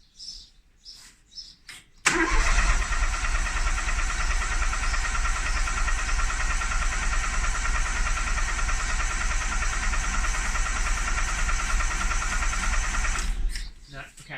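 A Mini engine, turbocharged, cranks on its starter for about eleven seconds, a loud steady churning as it tries to fire, with brief chirps and sounds before and after.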